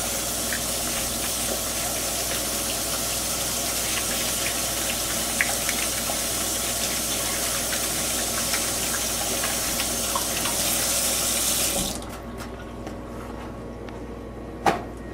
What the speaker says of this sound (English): You guys really better start washing your hands.